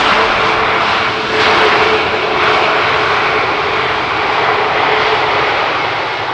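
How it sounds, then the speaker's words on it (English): Pegasus Airbus A320neo landing at Amsterdam Schiphol on runway 18R, a steady, fairly loud broadband jet roar held throughout with slight swells, no voices over it. "The A320neo from Pegasus."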